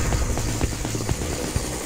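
Helicopter in the video game Mad City: a steady rotor thrum with rhythmic blade chopping, loud and continuous, close by with no talk over it.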